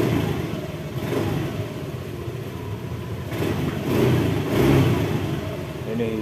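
A Honda Beat ESP scooter that has been stalling runs with its engine held at a steady mid-pitched idle, rising briefly in rough revs, heard close while a voice talks over it.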